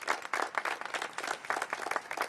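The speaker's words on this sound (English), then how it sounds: "So how about a round of applause for Mike Haney?" An audience at a morning government funding announcement claps in a steady, dense round of applause that sounds fairly distant and modest in volume, with no talking over it.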